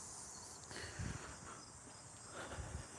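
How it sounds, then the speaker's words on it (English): Cicadas outdoors, a faint, steady high-pitched buzzing drone that continues throughout, with soft low rustles and footstep-like thumps underneath. "The cicadas are out already, so this is good."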